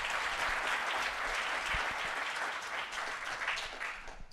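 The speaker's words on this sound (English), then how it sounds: "Merci de l'applaudir" An indoor audience claps steadily at a software testing evening meetup, a dense, even burst of applause that fades slightly toward the end.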